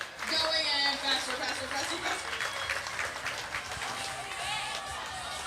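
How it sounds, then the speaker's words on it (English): Stadium crowd at an outdoor track meet on Beale Street clapping along for a pole vaulter, a dense wash of many hands with a public-address voice talking over it. "let's get a clap started. And clap, clap, clap, clap, clap, clap, clap, clap."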